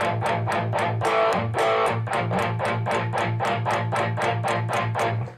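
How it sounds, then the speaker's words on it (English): Tightly palm-muted electric guitar with distortion chugs in fast, even, percussive bursts, each note short and choked, played loud and close with no voices. "you get that sound, that real percussive type sound when you're doing a palm mute"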